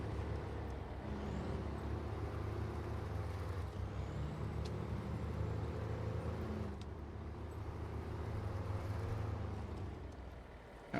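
A modded 12-wheeler truck in the video game Snow Runner drives on mud, giving a steady low engine drone with a brief hiss partway through, heard without talk.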